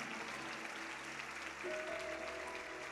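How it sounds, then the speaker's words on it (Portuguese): A church congregation's soft, distant applause forms a steady wash beneath sustained keyboard chords, with a new held note entering partway through. "Então, salve de palmas para Jesus."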